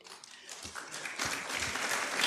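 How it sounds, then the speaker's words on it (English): Audience applause at a university innovation week and industry summit, a dense wash of many hands clapping that swells and grows louder toward the end, with faint murmuring beneath. "I think we deserve that clap."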